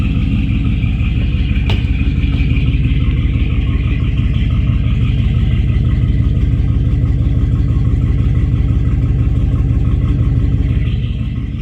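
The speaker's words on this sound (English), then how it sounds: "Let's go ahead and get this engine started." Mercruiser 454 L29 boat engine from 1999 idling after starting, a loud steady close rumble with an even rapid pulse, a brief click early on, running alone without talk.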